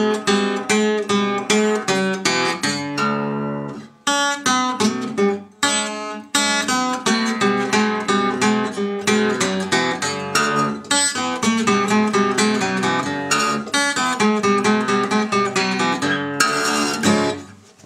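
A blues guitar riff, quick picked notes played alone, with short pauses and bursts of busier runs, clear and up front.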